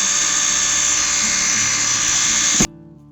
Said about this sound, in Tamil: ட்ரில்லிங் பண்ணும்போது இப்படி ஷேக் பண்ணாதீங்க.